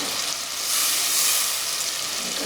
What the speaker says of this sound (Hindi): टमाटर डाल के इसको हम भूनेंगे जब तक कि टमाटर का पानी थोड़ा सा खुश्क हो जाए हमारा